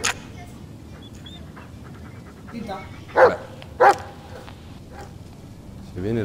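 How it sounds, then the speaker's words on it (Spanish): A dog in the horror game Blair Witch gives two sharp, loud barks in the middle of a quiet forest stretch, with faint ambience around them and a voice speaking at the start. "Oye, perro, cállate ya."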